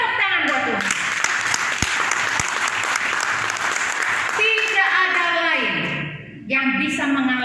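Loud, steady applause fills a church gathering, dense clapping over a sermon setting, with a voice cutting in over the crowd partway through and again at the end.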